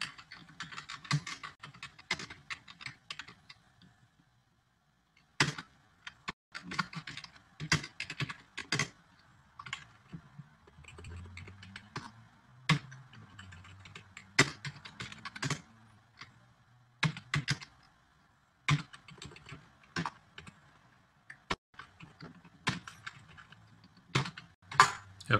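Keys clatter on a computer keyboard as SQL code is entered, bursts of close, crisp clicks separated by brief pauses, with a faint low hum beneath.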